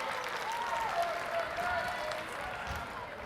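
Spectators at a volleyball match at the Arctic Winter Games applaud after a long rally, a steady burst of clapping that carries on for a few seconds, with faint voices in the crowd.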